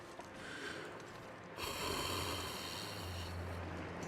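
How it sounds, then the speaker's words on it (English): A long, breathy human yawn rising and stretching out over a few seconds, close to the microphone, with no talk over it. "Ooh, good yawn."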